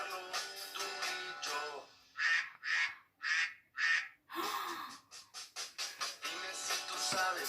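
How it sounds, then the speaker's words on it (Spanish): A duck quacks in a children's animal-sounds song: four distinct loud quacks in a row, set between stretches of singing. "Dime si tú sabes cómo hace el pato"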